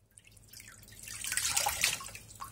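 Water drips and splashes from a homemade DIY water fountain, a soft trickle that builds over a couple of seconds into steadier splashing, fairly quiet and close with no voices.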